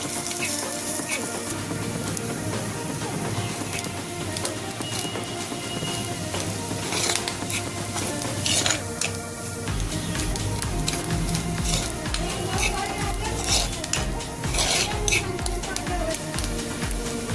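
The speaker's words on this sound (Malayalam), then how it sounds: "നമ്മൾ 2 കഷ്ണം ചെറിയ ഉള്ളിയും കൂടെ ചേർത്തിട്ട് നമ്മൾക്കിതിൽ 2 കറിവേപ്പില ഇട്ടുകൂടെ ചെറിയ വറുത്തെടുക്കാം" Shallots and curry leaves fry in a pan for a cashew nut curry, giving a dense, continuous hiss and crackle that stays loud throughout, with occasional stirring scrapes and no voices.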